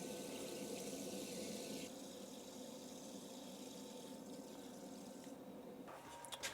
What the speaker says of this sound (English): this stop valve doesn't ever fully stop the flow of water